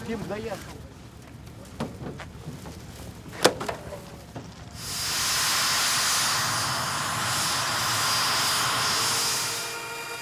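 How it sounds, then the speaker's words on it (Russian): After a few seconds of talk and clatter, the loud, steady whine and roar of a Mi-8 helicopter in flight over the Kola Peninsula takes over and continues to the end. "Вертолет – единственный способ добраться туда быстро."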